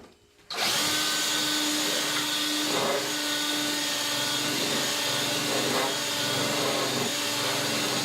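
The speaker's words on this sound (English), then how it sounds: "I'm just going to use a countersink bit." A power drill with a countersink bit runs continuously and loudly close by, whirring steadily as it bores into a taxidermy form or mount for screw heads.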